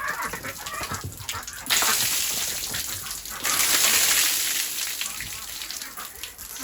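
Rainwater gushes and splashes in bursts as a stick pushes it along a channel, with a couple of louder surges, while ducks or fowl call nearby.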